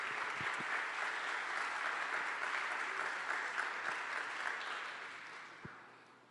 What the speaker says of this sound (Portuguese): Dê um aplauso ao Senhor, amém?